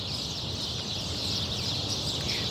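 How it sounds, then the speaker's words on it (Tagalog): Many birds chattering and calling at once along a boulevard in the early morning, a dense continuous chorus at moderate distance with no talk. "Maririnig niyo yung mga sound ng mga ibon, no?"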